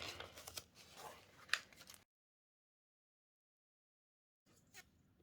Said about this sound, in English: And being careful not to cut the envelope. Trim that off.